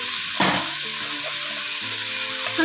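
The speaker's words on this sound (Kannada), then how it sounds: "ಈಗ ಈರುಳ್ಳಿ ಸ್ವಲ್ಪ ಕೆಂಪಗಾಗಬೇಕಪ್ಪ ಈರುಳ್ಳಿ ಸ್ವಲ್ಪ ಮಗ್ಗಿದೆ ಎಣ್ಣೆನ ಚೆನ್ನಾಗಿ ಬಾಡಿಸಿ" Chopped onions fry in hot oil for avarekallu upittu, giving a loud, continuous sizzle and crackle from start to finish, with a brief stirring rustle early on.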